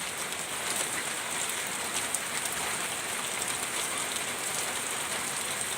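Steady rainy-season rain pattering on a surface: a continuous, even hiss of drops, moderately loud and close throughout, with no talking.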